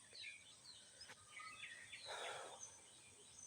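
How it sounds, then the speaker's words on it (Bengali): Several birds call on a village morning beside a pond and fields, faint scattered chirps and whistles at a distance over quiet outdoor ambience. "অনেক পাখির ডাক আপনারা শুনতে পাবেন এখন"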